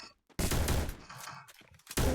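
Gunshots in the Free Fire video game: two loud bursts of gunfire, one long and one short at the end, separated by a quieter gap with faint noises.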